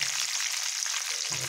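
Onions and curry leaves frying in hot oil for a brinjal and broad bean kara kuzhambu give a steady, close hiss of sizzling, with a few light bubbling crackles and no voices.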